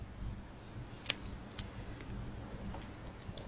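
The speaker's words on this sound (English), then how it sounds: "Now you just want to cut off the excess." Scissors snip off excess rope on a homemade slingbow, one sharp cut followed by a few faint clicks over a quiet background.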